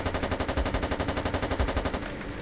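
Rapid automatic gunfire from the video game Ravenfield, modded, a steady fast burst of repeated shots lasting a couple of seconds at a loud, even level with no talk.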